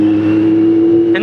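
A Kawasaki Z900 motorcycle idles and revs close by, a strong steady engine drone warming the bike up during a ride near Sri Kalahasti. Loud and constant, with no talk.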